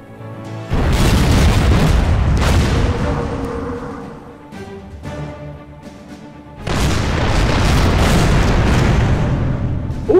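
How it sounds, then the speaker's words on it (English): Warship main guns in the Order of Battle WW2 game, Kriegsmarine on an Arctic convoy, fire in two loud booming salvos, each one a heavy blast that rolls on into a long rumbling decay. "Open up my main guns here."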